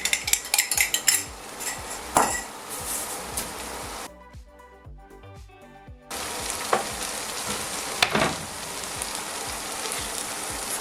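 Duck fillet cooking with garlic in a hot pan, a busy crackling sizzle with utensil clinks and scrapes up close, cutting out to near quiet for about two seconds before the sizzle resumes.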